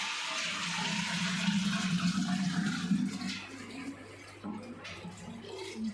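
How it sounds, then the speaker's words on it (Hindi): Water pours steadily into a clay matka at home, a continuous gurgling splash that runs close and fairly loud for several seconds before easing slightly toward the end. "धीरे से डालना, मटका मत छोड़ देना।"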